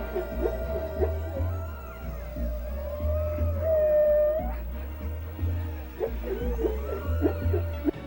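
Underwater humpback whale calls, long wavering moans and rising whistles mixed with low pulsing grunts, repeating over a deep rumbling background.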